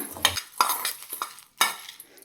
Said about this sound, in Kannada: ತುಂಬ ಲೋ ಫ್ಲೇಮಲ್ಲಿರಬೇಕು ಇರಬೇಕು ಇಲ್ಲಾಂದರೆ ಸೀದೆ ಆಗಿಬಿಡುತ್ತೆ ಸೀದೋಗ್ಬಿಡುತ್ತೆ ಒಂದು ಟೂ ಮಿನಿಟ್ಸ್ ಫ್ರೈ ಮಾಡೋಣ